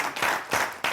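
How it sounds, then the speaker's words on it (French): Brief applause for a French television show presenter, with a few sharp bursts of clapping from a studio audience, close and fairly loud, under a second long. "j'aimerais qu'on puisse applaudir Mentor."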